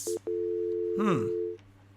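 Telephone line tone heard while placing a call: steady electronic tone pulses twice briefly, then holds for over a second, with a faint sweeping warble rising and falling in the middle.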